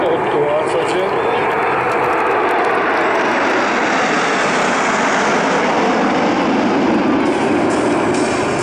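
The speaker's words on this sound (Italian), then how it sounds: "Ecco la formazione, vedete, una formazione molto stretta di questi 8 Alfa Jet." Eight Alfa Jets of the Patrouille de France pass in a tight formation at the 2019 Jesolo Air Show, a loud, steady, broadband jet roar filling the whole stretch without letup.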